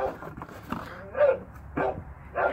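A dog barks several times from somewhere nearby but out of view, a few short separated yelps and whimpering barks at a moderate level, with no one talking over them.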